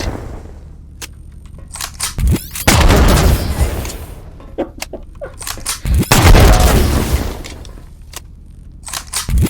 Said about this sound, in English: just loading it with a grenade launcher and doing this.